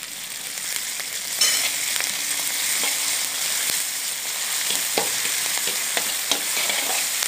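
Ginger garlic paste frying in a pan for Malaysian Indian tofu sambal, a dense continuous sizzle with scattered clicks of stirring, close and steady with no talking.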